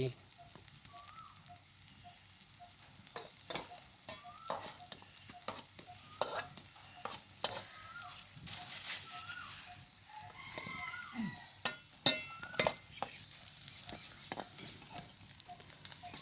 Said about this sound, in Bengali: এই যে মরিচ ভাজা হয়ে গেল